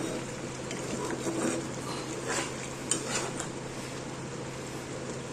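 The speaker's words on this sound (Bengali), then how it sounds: "ঘিটা দিয়েছি আবার একটু নাড়িয়ে দিচ্ছি" Jackfruit curry being stirred in a pan after ghee is added, a spoon scraping and clinking against the metal with a steady sizzle underneath, close by and without speech.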